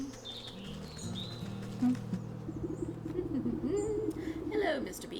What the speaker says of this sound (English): I hear buzzing.